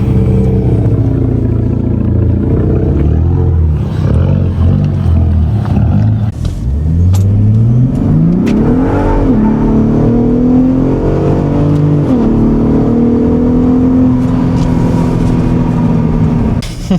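A Ford Raptor truck with an EcoBoost engine rumbles at low rpm and then revs up in loud, rising surges with a throaty exhaust tone, heard close and continuous without talking.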